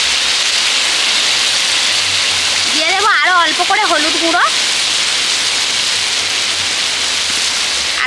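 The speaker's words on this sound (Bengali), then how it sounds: "প্রচুর বৃষ্টি হচ্ছে আজকে" Heavy rain pours down outside a home kitchen with a loud, constant rushing hiss. Someone speaks briefly over it partway through.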